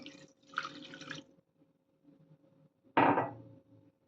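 A cup of water poured onto date palm jaggery in a bowl: soft trickling and dripping at first, then a short, louder splash near the end, alone and close.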